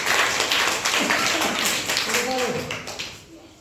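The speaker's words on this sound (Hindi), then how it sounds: "शाबाश ताली बजाइए।" A classroom of students clapping together on request, a dense burst of applause that starts loud and gradually thins out, with a voice speaking briefly near the end.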